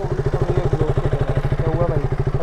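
A KTM motorcycle idles close by with its aftermarket exhaust, giving a loud, even, rapid thumping pulse that runs throughout.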